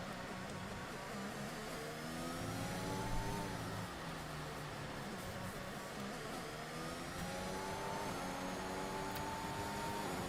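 A Mercedes racing car in a racing video game, its engine heard from on board, droning steadily up and down through the gears in a continuous mid-pitched whine.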